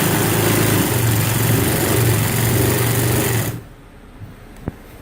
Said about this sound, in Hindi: अब ये सिलाई लगाते हैं।